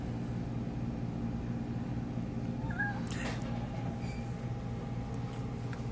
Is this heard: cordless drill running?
no